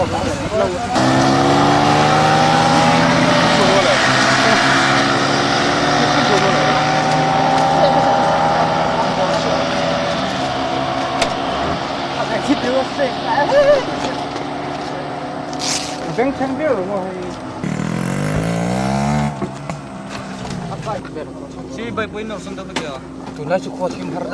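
Drag-race motorbikes rev continuously, loud and close, the engine pitch rising and falling before sharp bursts near the end. Someone talks briefly over the noise.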